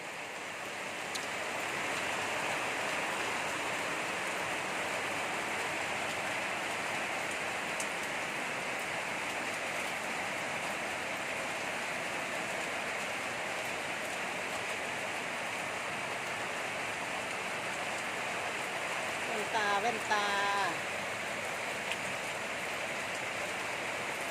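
Steady rain falls in a constant, even hiss that lasts the whole time, with a brief clatter near the end and no voices.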